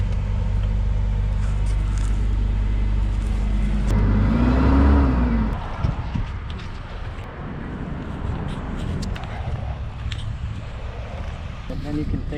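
A car engine revs hard up close, a loud rising and falling surge in the opening seconds, then settles into a rumbling idle while people talk over it.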